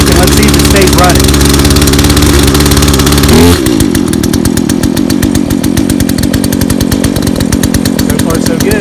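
A new Poulan Pro 42cc two-stroke chainsaw with an 18-inch bar, loud and close, runs at a steady high rev, then drops abruptly to a rougher, lower, pulsing idle as the choke releases.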